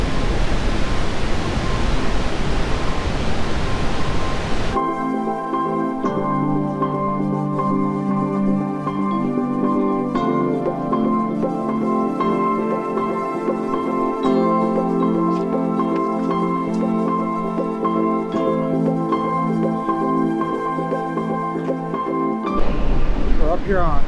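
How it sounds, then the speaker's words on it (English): Powerful waterfall in Box Canyon, Ouray, Colorado, a loud, unbroken roar of rushing water that fills the scene from start to finish. "The waterfall behind me is powerful."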